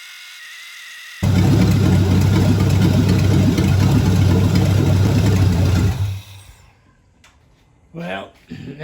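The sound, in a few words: 1967 Pontiac Firebird 400 engine running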